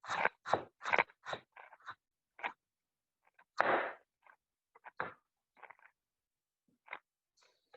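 Someone crunches on the raw cut end of a sliced vegetable. The bites come close and crisp in quick bursts, then slow to sparser chews with quiet gaps between them.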